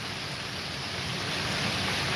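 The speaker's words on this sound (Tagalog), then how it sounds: "Tapos ayun, bumubugso pa rin yung tubig dyan." Floodwater gushing and rushing steadily during a typhoon, a dense, continuous roar of water with no pauses, loud and close throughout.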